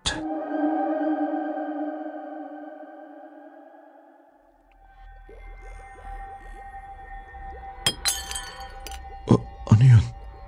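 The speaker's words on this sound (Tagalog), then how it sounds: "Parang may nabasag." Glass shattering inside a room, heard as a few sharp crashing bursts near the end over a low rumble, preceded by a steady tonal drone.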